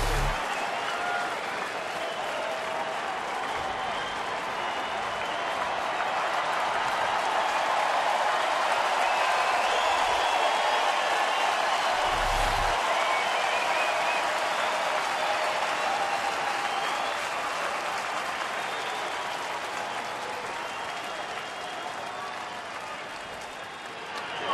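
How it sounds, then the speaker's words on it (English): A baseball stadium crowd in Detroit cheers and applauds, a sustained roar of clapping and voices that swells in the middle and stays loud throughout, with a brief thump partway in. "So here comes the crowd again."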